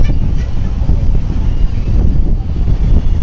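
Sea breeze buffeting the microphone on a hotel rooftop in Digha, heard as a steady, loud, low rumbling wind that lasts the whole stretch with no voices.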